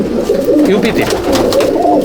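Racing pigeons cooing inside a loft at Mominpur, a close, continuous layered murmur of soft throaty coos with faint background chatter.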